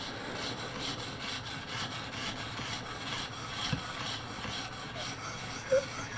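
A knife blade draws across the stone of a ViperSharp precision sharpener, repeated close, even rubbing strokes with a gritty rasp and a faint tap near the end.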